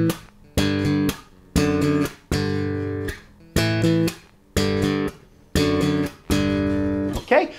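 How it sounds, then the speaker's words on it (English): Strummed power chords on bass guitar, mixing downstrokes with finger upstrokes: eight loud, evenly spaced chord bursts with short gaps between them, played alone. "let's try adding some of those upstrokes in there onto our riff."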